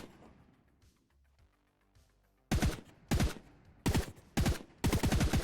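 Gunshots fired in the VR game Project Third Eye: after a quiet ambient stretch, five loud, close, sharp reports ring out in quick uneven succession, each with a short decay.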